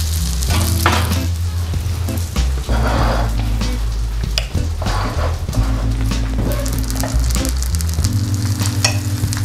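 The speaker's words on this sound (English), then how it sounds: "I'm gonna add some more butter to the pan" Butter sizzling and frying in a hot pan while cheese cooks, a loud, steady crackling hiss that runs throughout, with stirring and pan clatter on top and no one talking.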